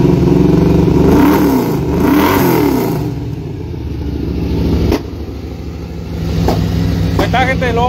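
Chevrolet Camaro Z28 engine revving hard with rough, uneven pulses and sharp backfire pops, loud and close, while someone talks over parts of it.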